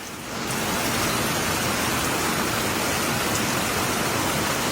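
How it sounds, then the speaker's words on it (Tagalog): Heavy rain pours steadily with gusting wind as Typhoon Crising sweeps through Igig, Cagayan, a dense unbroken roar that swells in within the first half second and holds loud to the end. "naranasan ang pabugso-bugsong hangin at ulan"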